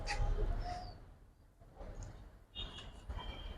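Military red-patti homer and benji pigeons at a pigeon market: soft cooing and a few chirps close by, with bird calls in short bursts over a low rumbling background.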